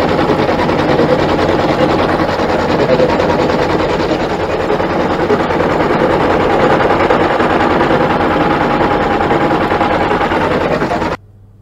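An embroidery machine stitches a quilt block in a hoop with a loud, continuous, even mechanical whir for about eleven seconds, then stops abruptly.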